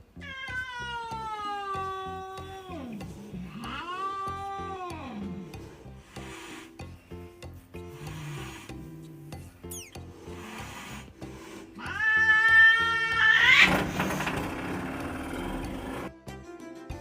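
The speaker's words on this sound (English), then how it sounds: "We got a new kitten, and this is how it was going." A new kitten meows repeatedly, loud and close, in several drawn-out, wavering cries with rising and falling pitch and short pauses between them, over faint rustling.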